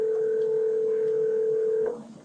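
A telephone tone sounds as a single long, steady note held for nearly two seconds, loud and close, before cutting off abruptly into quiet room noise.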